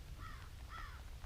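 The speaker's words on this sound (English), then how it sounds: "birds doing something in the background" Two short cawing bird calls in quick succession, crow-like and somewhat distant, heard outdoors near a fishing boat in cold, rainy fall weather against a low steady background rumble.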